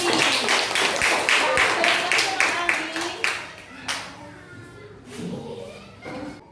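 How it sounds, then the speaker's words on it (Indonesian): A primary school class claps for a student during an Islamic religious education lesson, a burst of many hands that thins into scattered claps and fades, with some voices in the room. "Tepuk tangan untuk Mas Anggi."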